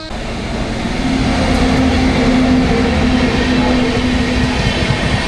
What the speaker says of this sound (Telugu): ఈ ట్రైన్ ఏంటో తెలుసా? చార్మినార్ ఎక్స్ప్రెస్.